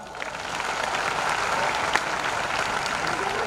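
Steady audience applause at a Marathi comedy career-guidance speech for students, a dense continuous patter of many hands that holds evenly throughout, moderately loud, with no talk over it.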